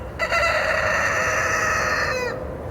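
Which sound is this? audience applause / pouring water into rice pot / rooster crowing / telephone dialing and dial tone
rooster crowing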